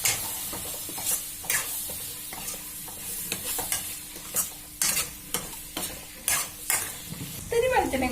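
Tomatoes sautéing in a pan for a fish curry: a close, continuous sizzle with regular scraping stirs roughly every half second to second, and a brief clatter near the end, with no talking.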